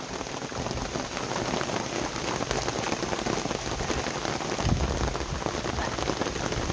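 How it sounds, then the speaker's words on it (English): Rain pours over a flooding campsite at Occoneechee State Park, a constant close patter of drops striking surfaces with a fuller thump midway, no voices. "And 10 minutes later, we're down to raining on the fire."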